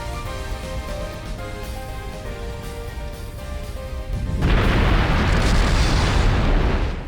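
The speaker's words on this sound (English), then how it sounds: "Cool people don't look at explosions!" In the video game Trails Through Daybreak, a loud, rumbling explosion bursts in midway through background music and keeps roaring to the end, with no talking.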